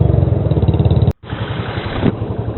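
Motorcycle engine on a long road ride from Kolkata to Siliguri, a loud close rumbling drone with a brief dropout partway through, then the engine continuing steadily with a change in tone near the end.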